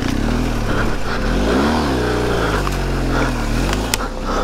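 A heavy adventure motorcycle revs on a rough off-road trail in Slovenia, its engine loud and close. The pitch swells and sags in uneven bursts, with no talk.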